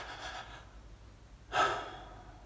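A voice imitates a newborn's periodic breathing, a few soft, faint breaths followed by a short pause and then a louder sighing exhale.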